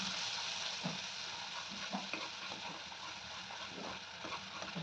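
Wet spice paste fries in hot oil already seasoned with mustard seeds and cumin, for a ridge gourd curry, producing a soft, steady sizzle with faint bubbling and occasional small pops, quiet and close, with no speech.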